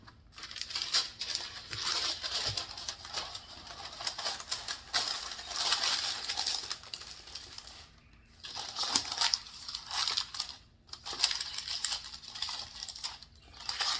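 Parchment paper is pressed and smashed down into a brownie pan, giving a continuous close crinkling and crackling with a few short pauses and no talking.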